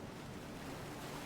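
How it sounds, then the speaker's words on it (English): Ocean waves in a storm at sea, a continuous loud broadband wash of surf and wind, heard alone with no voices. "The waves are big now,"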